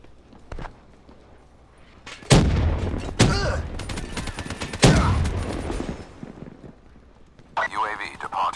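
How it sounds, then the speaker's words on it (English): Grenade blasts from the War Machine launcher in Black Ops 3 online multiplayer on PS3: several loud, close booming bursts spaced a second or two apart, with game noise between them and a faint tail at the end. "I survived two war machine blasts, I think it was."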